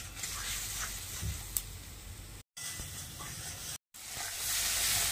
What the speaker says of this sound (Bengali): এবারে এই মশলাটা দিয়ে দিচ্ছি। মশলাটা ভালো করে কষিয়ে নিতে হবে।